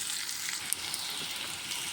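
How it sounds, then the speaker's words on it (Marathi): Chopped onion sizzles steadily in an oily pan for a bitter gourd masala curry, already soft and turning reddish; a dense, even frying hiss with no talk and a small tick partway through. "कांदा हा चांगल्या प्रकारे कलसला गेलेला आहे."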